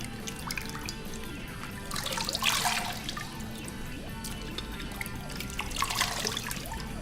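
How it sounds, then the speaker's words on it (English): Water splashes and trickles steadily as a face scrub is rinsed off, with a continuous running-water hiss and a couple of louder splashing bursts, close by and without speech. "and then rinse off"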